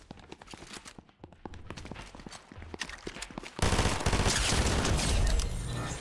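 Burst-fire SMG shots in Fortnite ring out in short rapid clusters with brief pauses, mixed with game effects, before a dense sustained barrage of gunfire takes over near the end.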